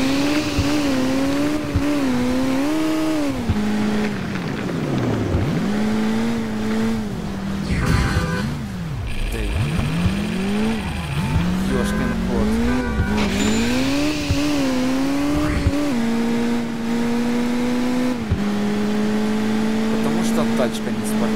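Non-sports car driving in the Crash Time 2 video game: a continuous engine drone that rises and falls through gear changes, with tire squeals and bumps along the way, loud and close throughout.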